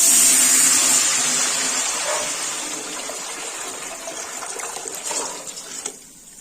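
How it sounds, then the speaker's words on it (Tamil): Water pours steadily into a large batch of washed rice for 30-litre rice payasam, a loud continuous gushing stream that gradually softens and thins toward the end, with no talking. "இப்போ அரிசி நல்லா குழஞ்சு வர்ற மாதிரி தண்ணி சேர்த்துக்கலாம்."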